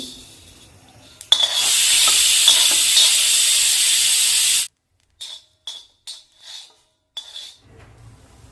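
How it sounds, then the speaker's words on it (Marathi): Coriander seeds are dry-roasted without oil on an iron griddle: a loud steady hiss runs for a few seconds and cuts off abruptly, followed by several short scraping, rattling strokes of metal against the pan. "मी मसाला भाजण्यासाठी लोखंडी तव्याचा वापर करते तेल न टाकताच आपल्याला दोन ते तीन चमचे धने भाजून घ्यायचे"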